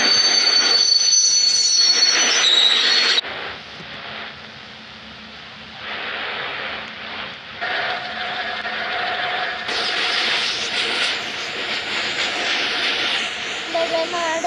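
A train rolls past with a steady roar and high metallic screeching from the wheels, loud and close, shifting in tone as the cars go by.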